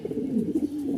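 Low, soft cooing of pigeons kept by a fancier, Andalusian and red coloured birds, a steady murmuring coo heard fairly close and alone, with no talk.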